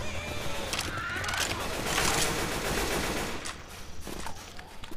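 Rapid automatic gunfire in Left 4 Dead 2, loud close bursts of shots running through most of the moment, with faint game noises underneath.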